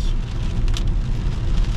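Rain drums on a rented car while driving, a dense steady wash of patter blended with low road rumble, close and continuous with no speech.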